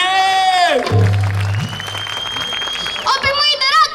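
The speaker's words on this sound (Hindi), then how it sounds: "एक बार जोर से तालियां बजाओ गंगूबाई के लिए" An audience at a live comedy show bursts into loud applause in a brief swell of clapping, with someone talking before and after it.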